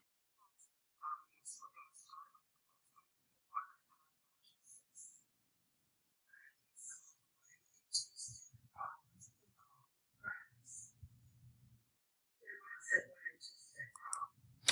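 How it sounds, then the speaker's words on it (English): Mouse clicks from a computer user navigating Google Classroom, sharp isolated taps spread through the clip with soft speech-like murmurs and quiet gaps between them. "So I'm going to click on the video"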